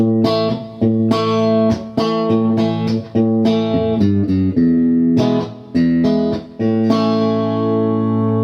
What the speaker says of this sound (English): all good Fender amps have a classic spring sort of reverb sound